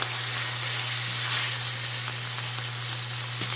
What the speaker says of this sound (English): We're going to let this cook, sear 3 to 5 minutes.